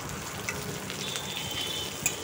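Bottle gourd, potato and papaya frying in a pan, giving a soft, steady sizzle with faint crackles and a couple of brief clinks, no voices.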